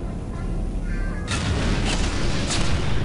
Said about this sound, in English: Then I kill the turrets.